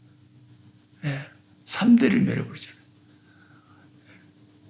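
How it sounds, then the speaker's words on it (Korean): Crickets chirp indoors in a steady, rapid pulsing trill that continues throughout, close and clear, while someone talks briefly in the middle. "뭔 집에 이렇게 귀뚜라미가 많은지"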